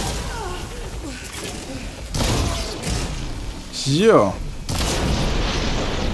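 Machine parts explode in the video game Horizon Forbidden West, heard as several booming blasts and thuds amid combat noise, while someone speaks German over them.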